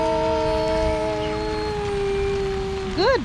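A dog howls along to singing outdoors in a rainstorm, a long steady howl that glides slowly downward, then ends in a short rising and falling yelp over a constant rain hiss.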